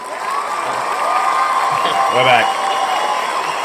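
Applause and cheering sound effect played by a live podcast host, a steady crowd wash of clapping and whoops throughout, with someone speaking over it.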